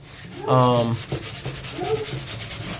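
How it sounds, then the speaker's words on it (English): Rhythmic scraping strokes of sanding rub back and forth across a drywall patch, a few close, uneven passes with a brief tonal squeak near the start. "I'm gonna let him finish sanding"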